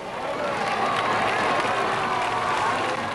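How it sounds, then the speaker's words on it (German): Trackside crowd at an East German motor race cheering during the final lap of a 1984 event, a dense, steady roar of voices and applause filling the air without a break. "Seine Fans am Kurs dürfen jubeln."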